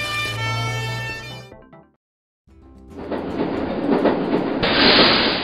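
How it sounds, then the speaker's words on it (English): A subway train rumbles and roars past with a rushing, hissing noise that grows louder, following a brief silence after a different sound. "Subway train."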